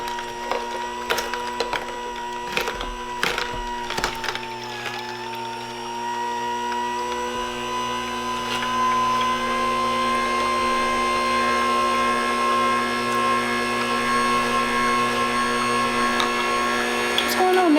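A Ninja cold press juicer runs with a steady motorized hum and grinding whir, preceded by several sharp knocks and clatters as it starts, close and continuous.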